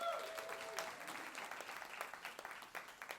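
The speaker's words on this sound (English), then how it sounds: "Yes, let's give her a round of applause." Audience applause for executive director Meredith Lee at a college convening, soft continuous clapping from a modest crowd with distinct individual claps, faint and steady.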